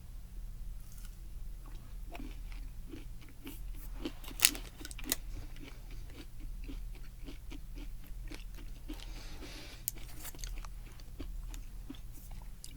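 Steady crunchy chewing close to the mic, repeated bites and mastication at a regular rhythm, quiet with no talking.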